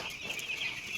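Eight-day-old chicks peep and cluck in a steady, continuous chorus at close range, high chirps layered over one another with no voices present.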